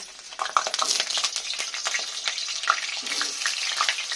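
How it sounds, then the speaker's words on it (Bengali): Potatoes fry in plenty of oil in a kadai, giving a bright, crackling sizzle close up, with intermittent stirring scrapes and pops throughout. "এবার আলুগুলো আমি ভেজে নেব"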